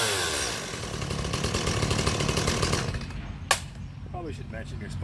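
A Stihl MS170 chainsaw on a cold start roars loudly and close for about three seconds before cutting off, followed by a sharp click and faint handling noises while a voice speaks.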